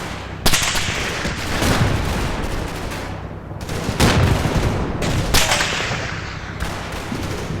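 Sustained battlefield gunfire in the World War II game Combat Mission Normandy, with several sharp cracks and booms of tank shells ricocheting off armor over a dense, continuous roar of shooting.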